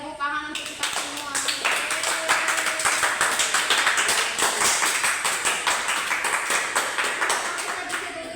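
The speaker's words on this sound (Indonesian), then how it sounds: "tepuk tangan untuk kita semua" A classroom of primary school children claps together after a maths lesson, a steady run of quick, close hand claps lasting several seconds, with children's voices audible underneath.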